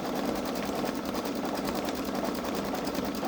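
A Babylock Solaris Vision embroidery machine stitches a scanned design in a fast, even, rhythmic whir of needle strokes, steady and close, with no pause.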